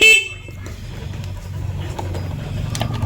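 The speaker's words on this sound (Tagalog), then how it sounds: "So may busina na." Horn on a PMR motorcycle under roadside electrical troubleshooting, after all its lights had failed, gives a short, sharp honk at the very start, then fades into a low background hum and scattered faint noises.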